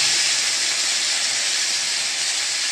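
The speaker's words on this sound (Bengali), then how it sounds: "দেখুন 5 ফোড়নটা কেমনভাবে ফুটছে" Panch phoron spices sputtering in hot oil, a loud, steady hiss and crackle heard close up and alone, with no talk.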